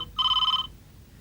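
A telephone rings once in a bright, steady electronic burst of about half a second, clear and close against a quiet room with a low background hum, in a Hindi TV serial household scene.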